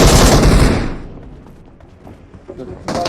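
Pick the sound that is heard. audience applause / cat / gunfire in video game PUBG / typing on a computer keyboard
gunfire in video game PUBG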